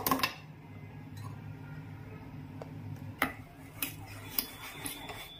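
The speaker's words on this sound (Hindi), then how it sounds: "विस्कर से मैं इसको मिक्स कर लूँगी और इस बैटर को अच्छे से एडजस्ट कर लूँगी।" A whisk works strawberry cake batter in a bowl, giving faint, light ticks and taps against the side that come in a loose rhythm over a low steady hum.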